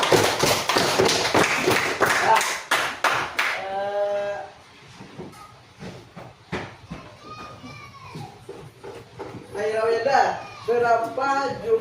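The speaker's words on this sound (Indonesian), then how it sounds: "Beri aplaus." Schoolchildren in a classroom clapping in applause, a burst of quick, loud claps up close at the start, followed by a teacher and pupils talking.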